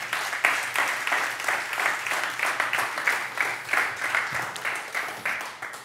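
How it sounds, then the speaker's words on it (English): A church congregation claps in praise, a steady rhythmic patter of many hands sustained throughout, fairly loud and close with faint voices mixed in. "Come on, clap hands for the Lord."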